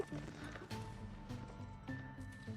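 Cavalry horses galloping through a multiplayer battle game, with steady clip-clop hoofbeats and a faint whinny over a busy, continuous mix of battle noise for the whole stretch, and no speech.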